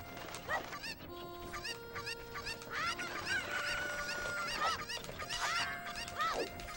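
A chicken in a video game clucks and squawks in repeated honking bursts, loud and close, over busy game sounds with a brief voice in the background.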